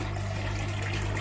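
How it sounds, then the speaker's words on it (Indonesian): Water runs steadily through a bucket filter recirculation system fed by a pump, a constant close rushing wash over a low pump hum. "Jadi air dari sini mengalir ke bawah."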